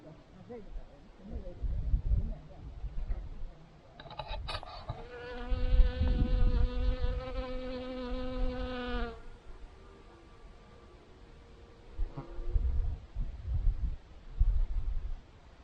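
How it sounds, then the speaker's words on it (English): A close, steady buzz of bees hovers for several seconds, with wind rumble and muffled background sounds around it, outdoors at Bossington, Somerset. "And the bees are very busy today."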